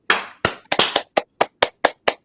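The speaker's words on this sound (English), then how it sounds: "Clapping." Sharp, close hand claps at a poetry reading, about nine of them, evenly spaced in a steady rhythm with short silences between.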